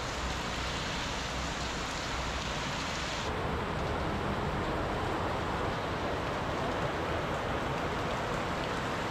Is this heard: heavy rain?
yes